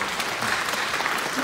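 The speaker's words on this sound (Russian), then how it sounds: "под ваши громкие аплодисменты." An audience at a ballet school recital concert applauding loudly, a dense continuous wash of clapping from a full hall, with a voice faintly under it.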